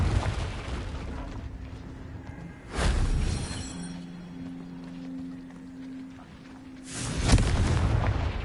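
Blasting spell explosions in Hogwarts Legacy, two deep booming bursts several seconds apart, each swelling and rumbling out over a low hum between them.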